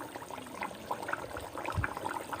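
Lightly fried fish pieces drop into a pot of bubbling vegetable curry made with vedai lata and narasingha leaves, a soft low plop heard over a steady, quiet simmering hiss.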